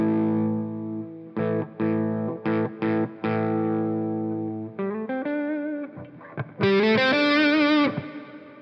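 Electric guitar on a distorted channel plays loud sustained chords and short chopped stabs, then single-note phrases as the volume knob is rolled back, finishing with a bright, loud held lead line; no talking.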